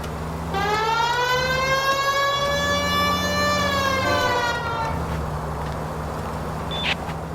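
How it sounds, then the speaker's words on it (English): Police car siren in the video game L.A. Noire, a loud wailing tone rising and sustaining for several seconds over engine rumble, then cutting out into traffic noise. "This seems like a good time for the siren, don't you think?"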